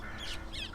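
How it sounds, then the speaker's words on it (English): Green parrots calling, two harsh, raspy squawks over steady background noise, heard at moderate distance. "These are parrots. They're green."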